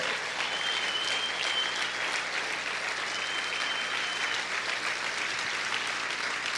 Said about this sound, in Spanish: Sigue aplaudiendo fuerte a tu Dios.